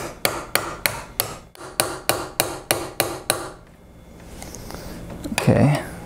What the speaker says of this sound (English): And I'll tap these in with the brass hammer.